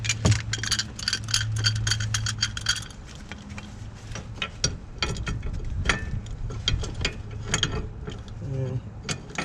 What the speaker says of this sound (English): we're going to push the piston back using the C-clamp and the old brake pad